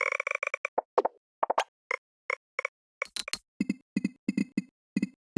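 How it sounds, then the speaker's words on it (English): Interface sound effects from typing in text boxes in osu!lazer: a rapid series of short, crisp pops, ticks and soft plops, tapped in irregular quick bursts, close and clean with no voices. "Necodex designed some cool sounds for text boxes"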